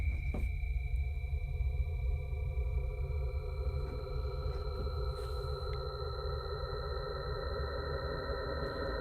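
A sustained synthesizer drone with steady layered tones and a low rumbling bed, slowly shifting over several seconds with no voices.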